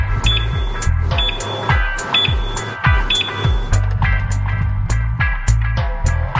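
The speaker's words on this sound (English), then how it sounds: "You will hear a series of beeps to indicate the laser is operating." A Rio laser epilator giving a repeated series of short electronic beeps while the laser operates, regular and close, with mechanical clicks mixed in and no talking.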